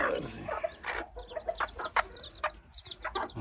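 A hen with her newly hatched chicks clucks softly while the chicks peep in high, short chirps, a faint, busy mix of calls close by amid barnyard background noise.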